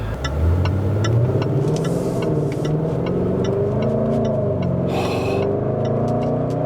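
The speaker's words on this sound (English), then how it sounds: "I want to hear the sound of the engine and the exhaust" A 2020 Range Rover Velar SVAutobiography engine and exhaust rev and rumble close by, deep and throaty, its pitch rising and falling in sweeps over a steady low hum.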